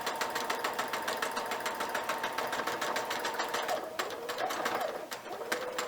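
A sewing machine stitches quilt fabric for a scrappy spider web star block, its fast, steady needle chatter running close and loud throughout, with a brief change in pace near the end as it backstitches.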